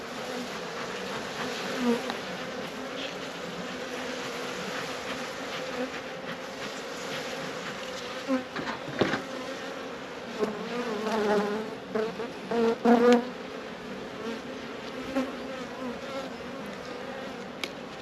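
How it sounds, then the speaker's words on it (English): Honey bees hum steadily around an opened beehive being smoked, a dense, sustained buzz close by with a few louder swells and knocks partway through; no one speaks. "So let's smoke these bees down."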